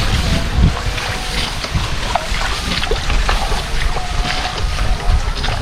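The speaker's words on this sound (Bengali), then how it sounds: "বাতাস হচ্ছে" Wind gusts across a small boat on a river, with steady buffeting wind noise on the microphone and faint water and hull sounds underneath.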